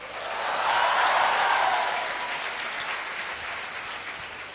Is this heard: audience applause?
yes